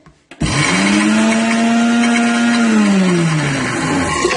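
A kitchen blender whirs loudly as it grinds persimmon into a puree, starting abruptly after a brief click and holding a steady high whine whose pitch sags slightly as the fruit thickens.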